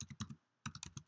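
Quick bursts of clicky key presses on a computer keyboard, a run of four or five taps, a short pause, then another flurry of typing, close and dry with no voices.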